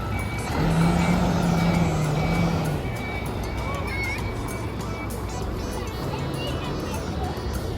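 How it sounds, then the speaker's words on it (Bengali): A large truck rolls past on an evening street beside a basketball game in Italy, its steady low engine rumble loud and near, with a repeating tonal beep early on and crowd and street noise throughout. "এই দেখেন কত বড় একটা ট্রাক আসছে এখানে"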